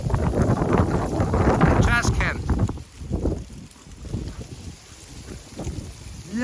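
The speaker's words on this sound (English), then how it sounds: "the winds are kicking in" Strong blizzard wind gusts roar into the microphone during a cold front at about -10 degrees, loud and blustery at first, then easing into quieter, uneven buffeting.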